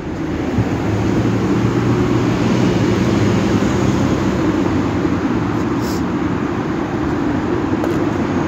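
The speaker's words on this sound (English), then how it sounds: "because the traffic's loud as hell" Loud city street traffic on a morning walk, a dense, steady roar of vehicles passing close by that fills the whole stretch without pause.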